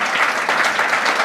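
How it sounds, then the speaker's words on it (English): Audience applause for the judges at a startup pitch competition final, a steady dense clapping from a crowd that fills the whole short stretch at even loudness. "Can I get a round of applause for our lovely judges?"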